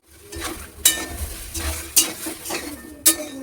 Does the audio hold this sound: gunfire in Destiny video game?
no